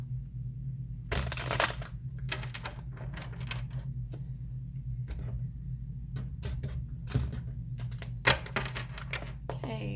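Tarot cards being shuffled, bursts of crisp riffling and flicks coming in short clusters over a low steady hum, close by.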